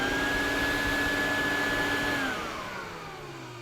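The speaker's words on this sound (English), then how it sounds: "That is my Electrolux 504 up and running." Electrolux Z504 vacuum cleaner running after a refurb, a loud steady motor whine with a high tone that starts to wind down and fade toward the end.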